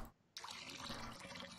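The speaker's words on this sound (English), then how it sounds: "let's now drop some water in there" In the Wurm Unlimited game, water pours into a measuring jug set to 10 grams: a brief, quiet splash and steady trickle that starts abruptly after a moment of silence and runs to the end.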